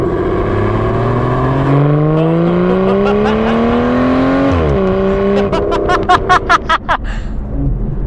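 An Aston Martin Vanquish V12 in track mode accelerates hard, its engine note climbing loud and close through a gear, dropping at the shift, then crackling with sharp bursts from the exhaust.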